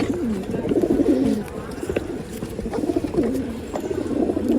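A Rekdhar breeding pigeon, a top-class male from Vijayapura, coos in repeated rolling low phrases, close and fairly loud, with soft rustling and faint background noise between the calls.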